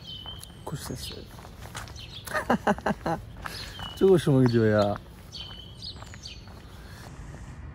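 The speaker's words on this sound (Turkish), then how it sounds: "Kuş sesleri." Birds sing in a Berlin neighbourhood, with short high chirps scattered through the clip under nearby footsteps and someone talking.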